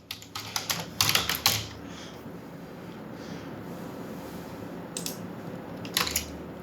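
Someone types on a computer keyboard in short bursts of quick clicking keystrokes, separated by pauses of quiet room tone.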